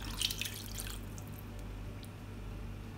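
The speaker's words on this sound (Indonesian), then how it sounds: "Nah, airnya kurang, saya tambahin air biasa." Water poured into a pot of beef set to boil for Padang-style dendeng balado, a faint splash and trickle with a few drips at the start, then a low steady hum for the rest.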